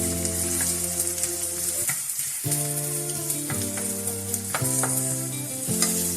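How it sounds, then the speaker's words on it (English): Shallot frying in olive oil in a pan, a steady close sizzle and crackle with a hum underneath and brief stirring breaks, no talking. "I'm going to add a shallot in there. And we're going to just fry that down till the shallot softens."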